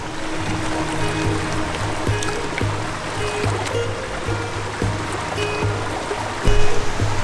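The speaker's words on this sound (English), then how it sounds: "You see how the water is taking the first layer off?" Water swirling and sloshing in a gold pan during panning, a soft continuous watery wash with faint trickles and low background hum, close, with a brief louder splash near the end.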